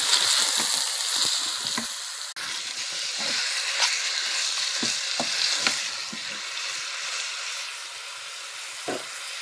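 Beef ribs sizzle steadily in a pan, with a constant frying hiss and repeated scraping, clinking stirs of a utensil throughout; no talking.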